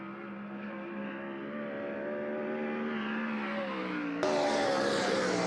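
A race car engine at a speedway drones steadily with a rising tonal pitch as it circles the track, growing louder until a sudden brighter surge near the end, with no commentary over it.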